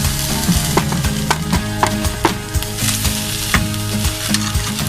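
Chopped onion and fresh coriander sizzle and fry in a pan as kachori filling is made, with steady crackling, repeated stirring and spoon scrapes close up, and no voices.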